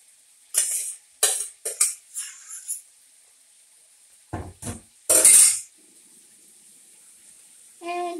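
Sweet potatoes with a hint of cinnamon go into a buttered casserole pan as several short, close scraping and clattering bursts, then a pause and a louder clatter, with a faint voice at the end.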